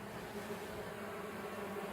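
A steady swarm hum of honeybees fills the air beside an opened hive during an inspection, close and even throughout with no talking.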